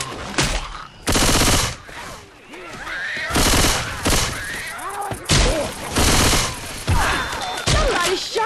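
Gunfire in Left 4 Dead 2 versus play, loud repeated bursts of rapid shots in quick clusters, close and dominant, with brief voices between the volleys.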